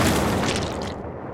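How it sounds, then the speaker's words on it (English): A single cannon fires in one loud, close boom that rolls off and fades over about a second, with no voices. "they put the glue on the wall, then they took all the writings and stuffed them into a cannon and shot the cannon at the wall"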